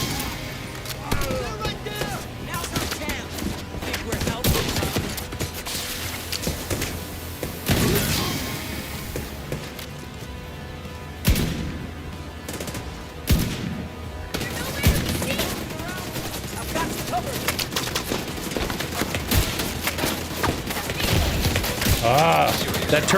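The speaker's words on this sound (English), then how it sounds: "Turret's nailing me." Automated turret firing at the player in The Division 2, heard as repeated loud bursts of rapid gunfire with impacts and crashes, mixed with someone talking over the shooting.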